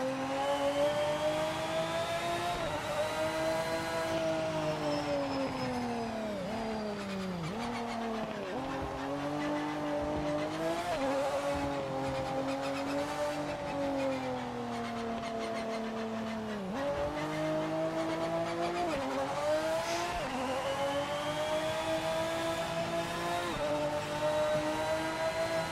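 Race car engines in Project Motor Racing scream continuously, with rising and falling revs through gear shifts, tyre squeal and skids. The cars sound loud and close and keep going for the whole stretch.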